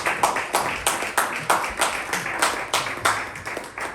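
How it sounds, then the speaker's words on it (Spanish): Church congregation clapping together in a steady, rhythmic beat, loud and close, with roughly two claps per second continuing evenly throughout. "un fuerte aplauso para José"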